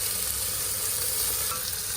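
A vegetarian Maharashtrian methi kapnya mixture fries in a pan, giving a steady, close, broadband sizzle that holds evenly throughout with no talking.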